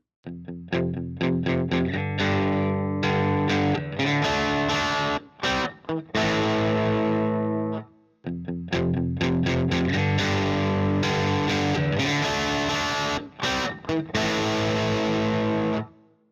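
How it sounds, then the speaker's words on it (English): Heavily distorted high-gain electric guitar riffs with chugging chords, loud and continuous, briefly stopping and restarting midway. "heavier distortion to kick in at as low as 2 on the gain knob"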